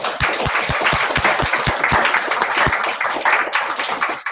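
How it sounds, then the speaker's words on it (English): Audience applause closing a Rotary club talk, a room of people clapping steadily with some distinct near claps standing out, continuing for a few seconds. "So we give our best thanks to you by a big applause to you."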